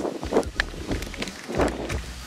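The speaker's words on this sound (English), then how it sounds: "Well, the wind's blowing." Wind gusts outdoors beside a church sign, buffeting the microphone with low rumbling puffs and rustles that rise and fall for a couple of seconds.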